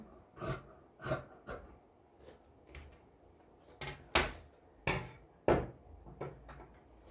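Scissors cut through fabric while a blouse is being cut out, with a series of separate crisp snips and soft rustles close by, some louder than others, spaced irregularly in a quiet room.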